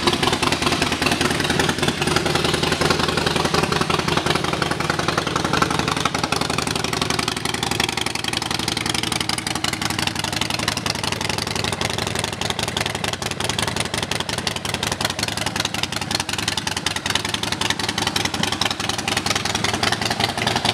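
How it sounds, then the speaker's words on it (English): A 2009 Harley-Davidson XL1200N Sportster Nightster with a loud exhaust idles close by, a steady, throbbing, lumpy rumble that holds at an even level throughout with no voices. "And let's listen to that exhaust."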